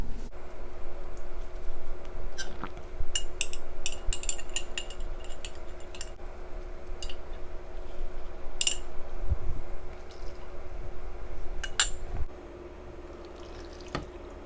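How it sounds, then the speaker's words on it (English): Water is poured into a pot of vegetables for a Korean vegan vegetable soup, with scattered drips, light splashes and occasional clinks of cookware against a steady low kitchen hum, fairly close. "next we'll add water, just a little bit so it shows up"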